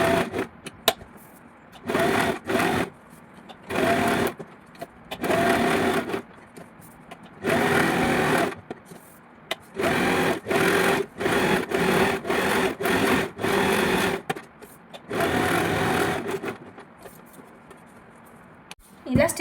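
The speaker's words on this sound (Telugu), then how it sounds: "టోటల్గా ఇక్కడ లైనింగ్కి మొత్తం స్టిచ్ వేసుకోవాలి." Stitching the lining of a net long frock, a sewing machine runs in repeated loud bursts of fast mechanical whirring broken by brief stops, while someone talks intermittently between the runs.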